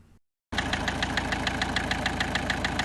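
Car engine idling with a steady, rhythmic knocking tick repeating several times a second, loud and close, starting abruptly after a brief silence and running on alone.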